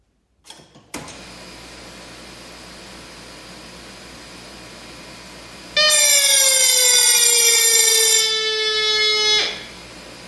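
A loud electronic fire alarm siren blares steadily for several seconds after a few clicks, with a sustained ringing tone from the alarm bell, then cuts off abruptly, during a fire sprinkler system operation demonstration.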